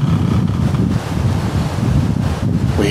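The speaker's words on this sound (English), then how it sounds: "we've had nothing but blustery winds." Blustery wind after a passing weather front roars steadily across the microphone, a loud, continuous low rumble of gusts with no voices present.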